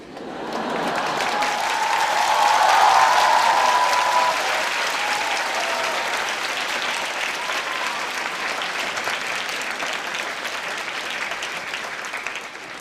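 A hall audience at a university talk breaks into steady applause, swelling in the first few seconds and then continuing as a dense, even clapping that holds to the end.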